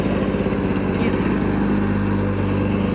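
A Lawnboy 680543 lawnmower's small engine idles close by with a loud, even, pulsing chug that stays steady for the whole stretch.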